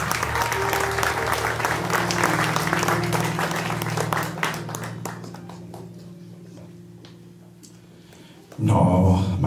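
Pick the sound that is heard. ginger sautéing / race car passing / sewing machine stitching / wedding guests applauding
wedding guests applauding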